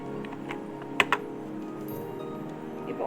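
Keys tapped on a computer keyboard while typing captcha characters, a few quick clicks standing out over a steady low background hum, with no talking.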